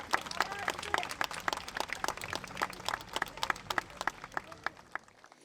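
Applause from an outdoor Memorial Day gathering in Livermore, California after a patriotic song, a moderate crowd clapping in dense broadband bursts at mid distance, steady then thinning near the end.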